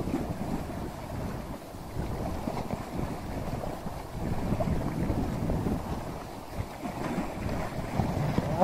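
Wind blows steadily across the open sea aboard a fishing boat, a continuous low rushing and buffeting that swells and eases slightly, with no voices.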